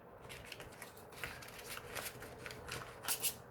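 Oracle cards shuffled by hand for a card reading, soft repeated riffling and sliding strokes close by, with two sharper snaps near the end and no talking.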